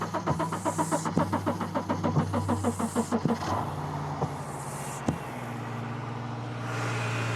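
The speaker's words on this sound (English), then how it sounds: "and start the car." A car engine cranks with rapid rhythmic chugging for several seconds on a Milwaukee M18 HotShot jump starter, catches with a thump, then settles into a steady, close idle.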